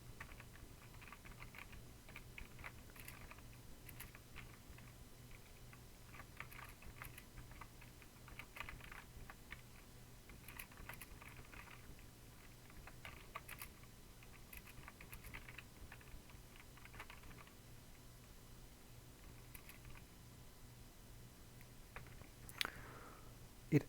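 Steady keyboard typing at a computer while Python code is entered, continuous soft key patter at close range with a faint low hum underneath and a sharper click near the end.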